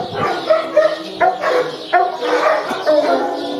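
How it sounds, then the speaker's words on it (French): Abandoned dogs in shelter kennel boxes bark repeatedly in overlapping, uneven bursts, several animals yapping and woofing at moderate distance in a reverberant space, with no talking. "C'est des chiens abandonnés dans des box."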